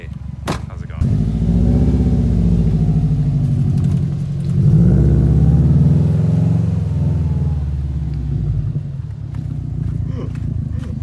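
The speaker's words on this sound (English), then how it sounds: "watch this little video of me trying to turn the car around" Subaru STI engine rumbling steadily and rising in two swells as the car is maneuvered and turned around, with a person talking over it.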